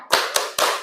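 Three sharp, loud claps ring out in an even rhythm, close and unaccompanied, from a classroom clapping game called tepuk fokus.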